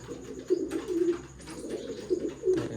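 Pigeons in coops coo softly in repeated low, throaty phrases close by, with light rustling between the calls.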